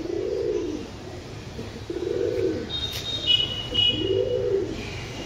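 Pigeons in a loft giving three slow, swelling coos spaced a second or two apart, near and clear, with faint high chirps and light rustling in the background.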